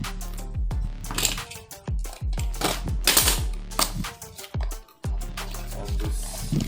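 Sharp crackling, tearing and clacking of packaging being opened around a boxed Noel 125W heavy-duty soldering iron, a series of close, irregular snaps and rustles with no speech.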